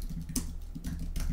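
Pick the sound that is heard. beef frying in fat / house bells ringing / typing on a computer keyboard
typing on a computer keyboard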